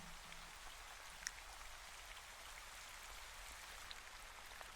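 Steady rain falls through a quiet night, a soft, even hiss of drops with a few faint individual patters and no voices.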